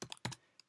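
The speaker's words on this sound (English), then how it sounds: "we type in the two different things we want to install" Typing on a computer keyboard, a few quick, close key clicks in a short burst followed by a single fainter tap, quiet and with no speech.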